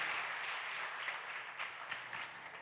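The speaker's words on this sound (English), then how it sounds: "Give him a big round of applause." A startup competition audience claps for a pitching team, a steady, fairly distant wash of applause with no talking.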